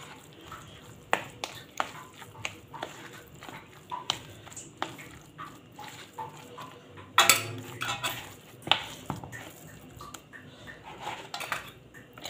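A spoon stirs ground kofta meat with breadcrumbs in a bowl, giving irregular soft clinks and scrapes against the dish, fairly quiet and close, with a brief louder clatter partway through.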